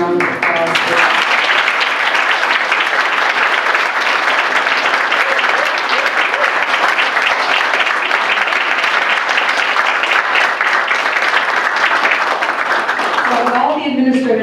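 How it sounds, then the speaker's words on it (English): Applause at a school district board meeting honoring an administrator of the year, loud, sustained, close clapping for about fourteen seconds, ending abruptly as voices resume. "we want to give her a big round of applause for that"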